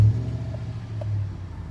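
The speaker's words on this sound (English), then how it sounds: "Just turn the truck on." A 2007–2013 Chevy Silverado 1500 4x4 truck engine running, a low steady rumble close by with a slight throb, alone without voices.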